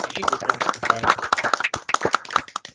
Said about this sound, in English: If everybody could please come off mute, let's give Ajay applause.